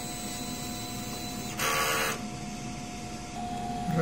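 A DTF printer runs a normal head-clean cycle, giving a steady mechanical whir with a louder burst of pumping or wiping for about half a second midway, then settling back to a continuous hum.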